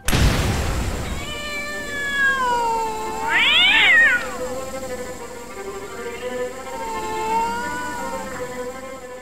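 A cat Pokémon in Pokémon Snap gives a series of drawn-out, wavering meows, one louder rising-and-falling cry in the middle, over a soft game background hum with no talking.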